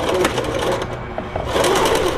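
Euro-Pro X sewing machine running steadily, with a continuous close mechanical whir and rapid needle chatter that stays loud throughout.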